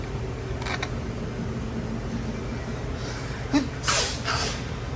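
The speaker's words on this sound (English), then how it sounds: "And a sneeze." A single short, breathy sneeze bursts out over a steady low mechanical hum, followed by a brief rustle.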